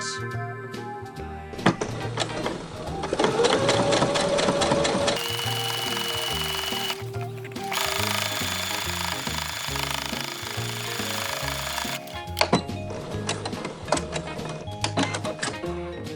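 A sewing machine top stitching a festive fabric holiday tote bag, its rapid mechanical stitching running in bursts with brief pauses, loud and close, with a high whirring tone through the middle stretch.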